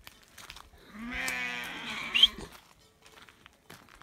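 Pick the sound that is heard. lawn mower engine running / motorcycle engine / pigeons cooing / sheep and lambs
sheep and lambs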